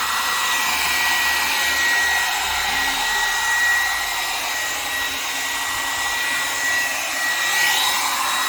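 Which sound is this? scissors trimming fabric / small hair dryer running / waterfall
small hair dryer running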